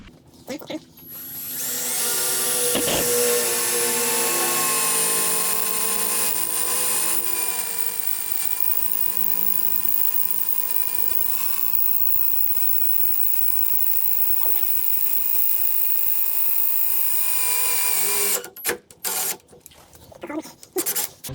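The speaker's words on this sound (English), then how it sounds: "right about here is where we're gonna drill our hole, install it" A power drill whines loudly and continuously for most of the stretch, drilling a hole in a Polaris 850 snowmobile, its pitch shifting slightly, then stops, followed by brief clattering handling noises.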